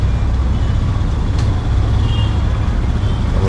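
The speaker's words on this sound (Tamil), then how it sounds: "ஃபுல்லாக டிராஃபிக்காக இருக்குது." Heavy road traffic rumbles steadily at close range, a dense low drone from cars, trucks and buses with no breaks and a faint brake hiss partway through.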